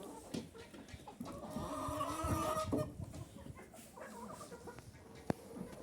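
Several laying hens cluck and murmur softly near a feeder, with scattered pecking and scratching noises and one sharp tap.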